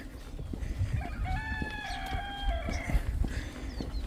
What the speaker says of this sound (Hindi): मुर्गे की आवाज़ आ रही है।